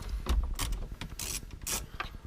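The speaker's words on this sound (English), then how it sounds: "I just got a 1/4-inch ratchet and a 10mm" A 1/4-inch ratchet with a 10mm socket working bolts loose during a car radio install on a Subaru BRZ/Scion FR-S/Toyota 86, giving short bursts of clicking and metallic rattling in uneven clusters, close and fairly quiet.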